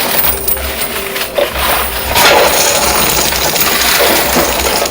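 Poker chips clatter in a coin pusher arcade game as a large pile of $10,000 chips spills and drops, a loud, continuous rattling cascade of plastic clicks and jingles with no talking.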